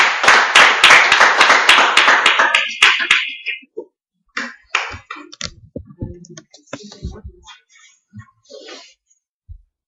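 A church congregation claps loudly in dense unison, then the applause fades quickly into scattered individual claps and clicks in a quieter room.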